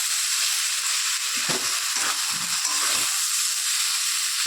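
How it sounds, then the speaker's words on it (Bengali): Coconut paste is slowly stirred with shrimp and taro stolons in a hot pan, producing a steady sizzle with a few soft scraping strokes of the spoon in the middle. "এখন এভাবে আস্তে আস্তে করে মিশিয়ে নিচ্ছি।"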